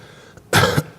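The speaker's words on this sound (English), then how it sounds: "if you hear me cough" A single short, sharp cough from a man, close and loud, standing alone against a quiet room.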